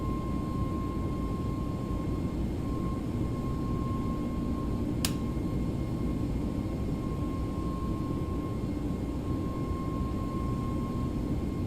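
ToLiss Airbus A321neo in X-Plane 11 accelerating down the runway on its takeoff roll, a steady, continuous engine roar with broadband rushing noise and a constant whine that holds at one level throughout, with one brief sharp tick partway through.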